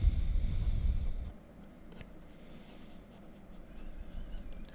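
Marker or chalk writing on a board during an English grammar lesson, a faint scratchy scrawl that drops off partway and resumes softly, with no speech.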